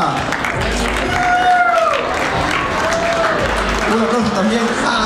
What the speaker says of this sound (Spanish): Un aplauso también a su contrincante, Ryan.